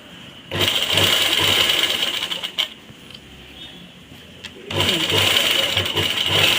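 A sewing machine runs in two steady bursts of rapid stitching along a joint, loud and close, with a short quiet pause and a small click between the runs.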